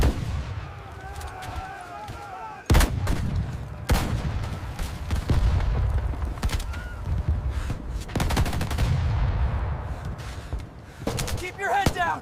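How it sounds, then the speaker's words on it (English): Rapid machine gun bursts and heavier booming blasts crack through a D-Day Omaha Beach battle scene from 1944, loud and close, with voices shouting over the near-constant gunfire. "Keep firing that MG!"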